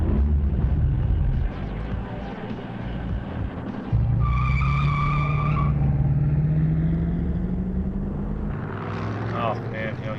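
Cars racing with tires skidding: a constant loud engine roar with a rising whine and a short, sharp tire squeal in the middle, followed by more squealing near the end.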